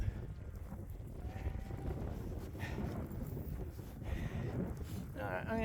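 Faint sheep bleats sound from a distance over wind noise, with a few scattered calls and a clearer bleat near the end.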